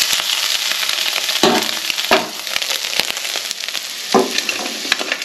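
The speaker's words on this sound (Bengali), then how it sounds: "মোরলা মাছের যেহেতু টক করব তাই জন্য এখানে কড়াতে তেল পাঁচফোড়ন দিয়ে নিলাম" Panch phoron spices frying in hot oil in a wok for a sour mourala fish dish give a close, steady sizzle dotted with sharp crackles and pops, with no talking.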